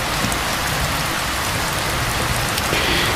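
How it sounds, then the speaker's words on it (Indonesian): Heavy rain pours steadily, a dense continuous hiss of drops drumming on surfaces, loud and close throughout, with no voices. "cuacanya dari tadi hujan terus ya"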